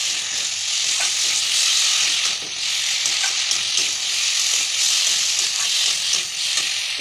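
Ground green chilli and cumin paste frying in a curry, a steady loud sizzle with bright hiss and intermittent scraping from stirring, close up and continuous for several seconds without talk.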